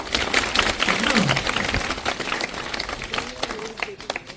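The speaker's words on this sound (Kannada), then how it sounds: "ಹಂಗಂದ್ರೆ ಚಪ್ಪಾಳೆ ಹೊಡ್ರಿ ಮತ್ತೆ" Children and adults clap together at a 77th Republic Day programme in a government primary school, a busy burst that slowly thins out while voices talk and call out over it.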